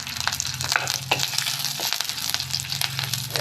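Curry leaves hitting hot oil with chopped onion in a clay pot for Kerala chatti choru, a loud close crackling sizzle with sharp pops and stirring scrapes, continuous and without voices.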